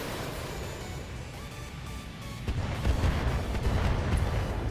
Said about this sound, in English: we're coming in with mortars, and we're just going to try to pepper this guy with Inferno